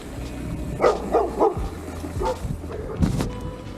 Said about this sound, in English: Oh, there's a search dog.